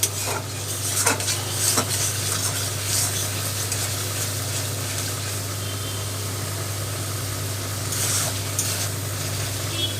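Oil sizzles steadily in a pan while spices fry before potatoes are added, with a few sharp utensil scrapes and clinks near the start and end over a low constant hum.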